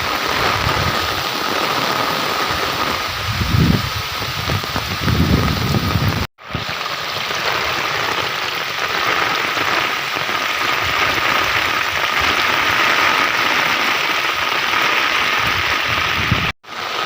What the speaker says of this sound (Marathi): रात्रभर पाऊस पडतोय आणि आता देखील पाऊस सुरू झालेला आहे